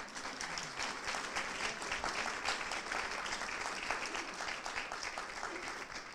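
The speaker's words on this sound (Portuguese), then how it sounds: "Voy a dar un aplauso." A church congregation applauds during a bilingual Portuguese and Spanish worship service, the dense clapping steady and sustained, filling the room for the whole stretch with no voices rising above it.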